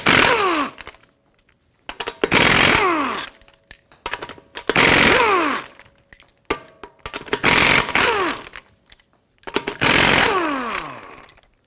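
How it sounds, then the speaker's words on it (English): An impact tool spins off the lug nuts on a Hyundai Santa Fe wheel with a 21mm socket, giving five loud, separate bursts of rapid hammering rattle, each about a second long with short pauses between them. "Use a 21mm socket, remove all 5 of your lug nuts, and then remove the wheel"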